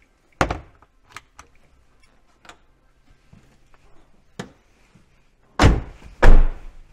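A VW campervan with a Camperking conversion has its door handled, with scattered clicks and knocks followed by two heavy, close thuds as the door shuts.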